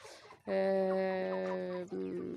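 A chicken in a pen with chicks gives a loud, drawn-out call lasting over a second, followed by a shorter cluck, heard close by.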